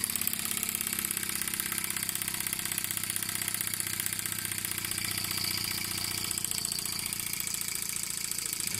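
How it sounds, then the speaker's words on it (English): A Mamod Centurion model steam engine on live steam, driving a generator, chugs steadily with a fast, regular mechanical knocking beat, continuous and close. "You can hear that engine working against the generator."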